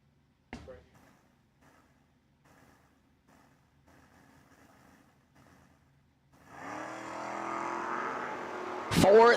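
Footbrake drag race cars launch down the strip at a bracket racing event, a loud roaring engine surge building after a quieter stretch with an announcer talking, ending in a sharp loud burst.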